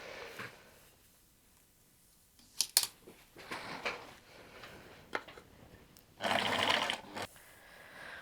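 A sewing machine zigzag stitches the hem of a stretchy sweatshirt dress with a stretch needle, running in short faint bursts separated by pauses, with a longer louder run near the end.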